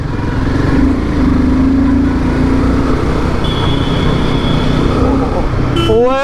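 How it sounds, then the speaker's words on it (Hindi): Vikram auto rickshaw in dense city traffic in Ghaziabad, a steady rumbling engine drone close by amid continuous traffic noise and a brief horn tone, with a rising whine at the very end. "विक्रम ऑटो"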